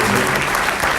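Conference audience applauding to welcome a speaker at a talk on Day of the Dead, a dense steady burst of clapping filling the whole moment, loud and close.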